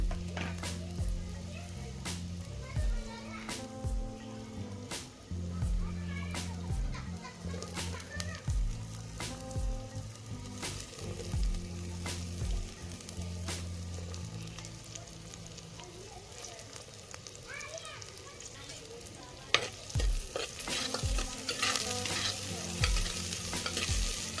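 Green garlic and pigeon peas fry and are stirred in a pan with browned onion for a Kathiyawadi methi-brinjal oro. Steady sizzling runs throughout, broken by repeated scraping stir strokes, with faint background voices.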